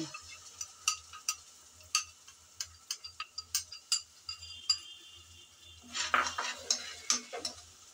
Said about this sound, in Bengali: মশলাটা দিয়ে ভালো করে নেড়েচেড়ে কষিয়ে নিতে হবে।